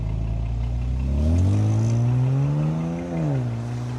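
A BMW inline-six, B58 or N54, launches hard from a standstill, its engine note climbing steadily in pitch with a short dip near the end, loud and close with no voices.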